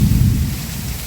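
Heavy monsoon downpour with thunder, a loud close roar of rain over a deep, rolling rumble that fills the whole brief moment.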